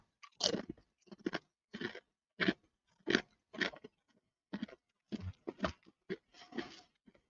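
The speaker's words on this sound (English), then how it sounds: "Well, that's a really good crunch." Uglies Buffalo Ranch kettle potato chips are crunched and chewed close up in a series of about a dozen crisp, separate bites and crunches with short pauses between them, and no talk.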